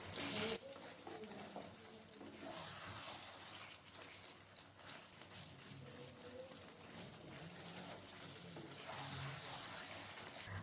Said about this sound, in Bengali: এরপর আবার একটু নাড়াচাড়া করে নিচ্ছি।